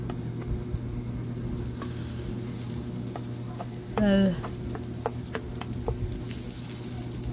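Chopped garlic and onion sauté in hot oil with a constant light sizzle, joined by scattered ticks and taps of stirring. A short burst of a rooster's call briefly cuts through partway.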